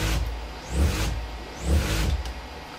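Brushed DC motor on a bidirectional speed controller, whining as it ramps up and changes direction, two rising sweeps close by with a steady hum underneath.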